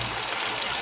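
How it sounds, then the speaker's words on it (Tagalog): Water poured into a cooking pan, a brief steady splashing rush close by. "Lagay tayo tubig."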